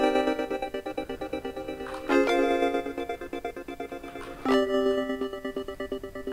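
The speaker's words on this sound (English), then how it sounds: "Now, the next thing that we have is an LFO trans gate." Synth pad built in Phase Plant, chopped by a moving LFO trance gate into a rapid, steady rhythmic pulsing of sustained chords, with two brighter swells where the chord changes, playing alone.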